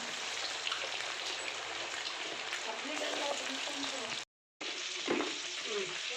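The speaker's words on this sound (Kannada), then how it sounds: "ಇವಾಗ ಎಣ್ಣೆಗೆ ಹಾಕಬೇಕು, ಎಣ್ಣೆ ಕಾದೈತೆ ಗೈಸ್." Marinated kebabs sizzle and crackle steadily in hot oil, a loud continuous frying hiss with occasional sharper pops, briefly cut to silence before resuming.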